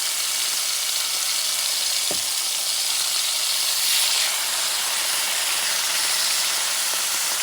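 Bison liver sizzles loudly and steadily in a hot pan, a continuous close-up hiss with a brief thump as it goes in, and nobody speaks.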